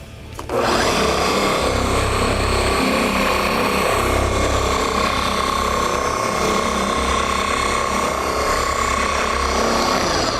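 FLEX 3401 dual action polisher switching on and running steadily on car paint, a loud, close motor whine with a droning hum that holds nearly constant, rising slightly in places.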